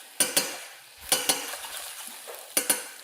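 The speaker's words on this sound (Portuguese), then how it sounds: "para soltar todo esse fundo que grudou na minha panela e deixar todos os meus pedacinhos de cebola com a mesma cor" Onions being stirred in a pan with a utensil scraping the stuck-on browned bits from the bottom, giving three pairs of sharp scrapes and clacks over a faint sizzle, close and with no talking.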